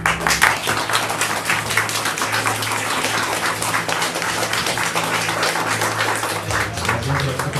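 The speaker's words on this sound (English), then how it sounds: "One more big round of applause for everybody who performed." A concert audience breaks into sustained applause after a performance, with dense, steady clapping that stays loud for the whole stretch and a faint low hum underneath.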